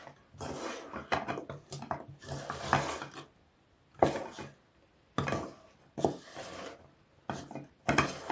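Repeated bursts of scraping and rasping as a metal spoon stirs nuts through sticky chocolate glaze, in quick strokes separated by short pauses.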